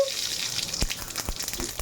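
Mustard seeds crackle and sizzle in two tablespoons of hot peanut oil for a fish curry, giving a steady hissing fry with a few sharp pops close by. No one speaks.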